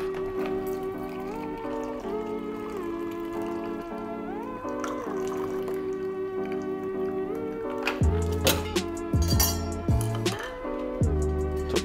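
Mezcal cocktail poured from a shaker into a julep cup over crushed ice, a gentle trickling and dribbling that grows into louder splashes and clinks near the end, with music playing throughout.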